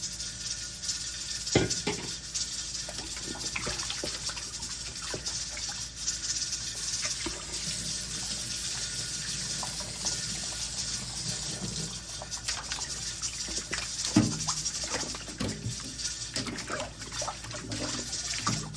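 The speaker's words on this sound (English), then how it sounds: "Just wash them until they don't feel no slime." Raw chicken pieces are washed in a sink under a running tap, with steady splashing water and occasional clinks of dishes and utensils, close and continuous.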